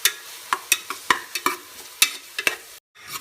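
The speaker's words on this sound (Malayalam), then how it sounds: "എന്നിട്ട് ഇതിൻ്റെ പച്ചമണം മാറുന്ന വരെ നമുക്ക് ജസ്റ്റ് ഒന്ന് വഴറ്റിയെടുക്കാം." Crushed spices sauté in a pan for kabsa rice, with a spatula scraping and tapping against the pan about a dozen times over a soft sizzle. It cuts to silence near the end.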